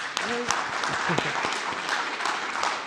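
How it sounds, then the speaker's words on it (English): Audience applause for two panellists at the close of a public talk at the Eureka Centre, a steady wash of clapping throughout, with a few voices rising briefly over it. "We perhaps give them a clap."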